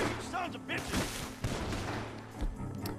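Suppressive gunfire crackles in Red Dead Redemption 2, a rapid volley of overlapping shots and booms with shouting voices mixed in, loud and dense throughout.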